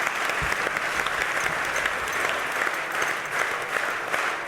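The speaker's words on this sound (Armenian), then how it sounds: "Ծափարություններով կանչենք մեր հաջորդ մասնակցին" An audience at a TV show applauds to welcome the next contestant, dense continuous clapping filling the room, steady and fairly loud throughout, with faint voices underneath.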